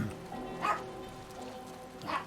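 Dog indoors giving two muffled barks or yips, spaced about a second and a half apart, moderately distant and faint over a steady low background hum.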